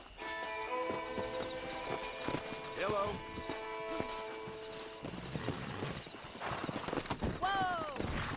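Horse hooves clip-clop and gallop in Red Dead Redemption, a pack of wild horses nearby, with neighs and whinnies rising over the hoofbeats and a brief spoken greeting.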